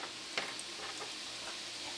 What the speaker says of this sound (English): So now we're starting to fry.